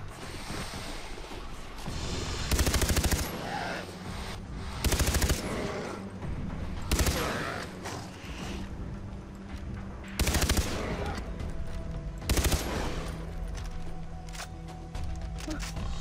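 Bursts of automatic gunfire in the Far Cry 3 video game crack out at intervals, some short and some sustained, over a steady outdoor ambience, with someone talking now and then.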